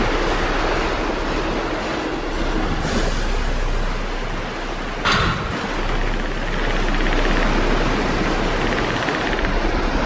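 Continuous rumbling drone of a moving elevator in the 1999 PC game Aliens versus Predator, steady and loud with a brief clank midway, no talk.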